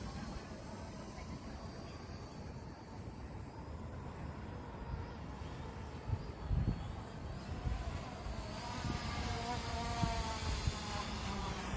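A ZLRC SG906 Pro 5G camera drone flies around outdoors, its rotors giving a steady buzzing whine that swells louder as it draws nearer, with faint background noise throughout.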